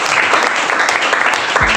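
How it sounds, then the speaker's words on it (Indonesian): A classroom of students applauding together: loud, close, dense clapping that stays at a steady level throughout the brief burst. "Tepuk tangan dulu."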